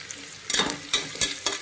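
Chopped onions and green chillies sauté in a hot pan for spinach pulao, giving off a bright sizzle. The sizzle rises in short bursts each time the mixture is stirred.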